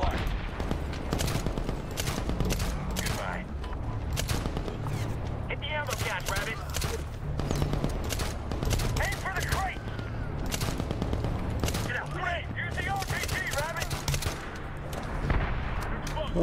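Sustained gunfire and bursts of explosions fill a Medal of Honor (2010) battle, with rapid automatic fire and heavy booms running continuously throughout, loud and dense.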